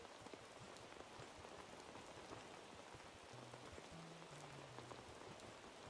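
Steady rainfall in the video game Animal Crossing New Horizons, an even patter of drops hissing on surfaces, soft and continuous throughout with a faint low hum of game music underneath.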